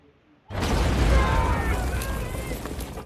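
A bomb blast from a war scene in the film American Sniper hits abruptly after a short quiet lead-in, then holds as a loud, dense roaring rumble with crackling debris for over two seconds before cutting off.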